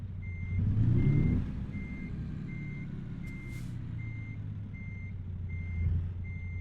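In American Truck Simulator, a truck backing up sounds a regular series of evenly spaced reversing beeps over a low engine drone, with an engine swell early on and a short air hiss partway through.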